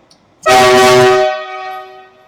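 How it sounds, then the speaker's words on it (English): A single loud blast of a truck's train-style air horn sounds close by, a strong tonal honk that holds for about a second before fading out. "the train horns, true air horn valve"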